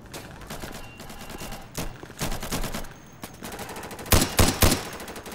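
Gunfire in the tactical shooter Insurgency, set in urban Baghdad, cracks out in rapid bursts of automatic fire, with louder, closer volleys near the end and no talking.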